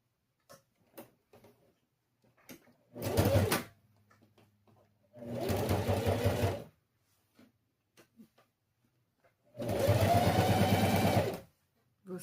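A sewing machine topstitches with a longer stitch in three separate loud bursts of rapid mechanical whirring, each lasting a second or more, with quiet handling clicks in the pauses between runs.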